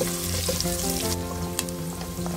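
Onions sautéing in a pan for ox tripe soup, a steady close sizzle and crackle with a few soft stirring clinks.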